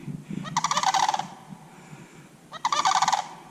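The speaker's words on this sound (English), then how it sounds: "Yep, that's a sandhill crane." Two loud bursts of rattling, trumpeting sandhill crane calls, close by, separated by a short pause, with faint low rumble underneath.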